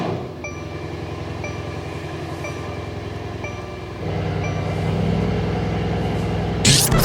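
A Mercedes C63 drives through a snow flurry, its engine and road noise making a steady, close rumble inside the cabin, with a brief rattling noise near the end.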